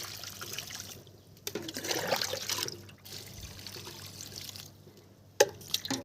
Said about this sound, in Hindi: उन गमलों में करीब करीब 1-1 लीटर पानी आपने डाल देना है